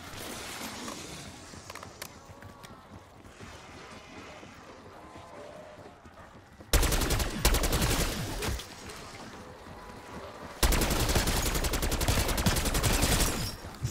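Bursts of AK rifle fire in a Liberty Falls game match, a quieter stretch of distant shooting followed by two loud, dense sustained bursts close up, with no talking.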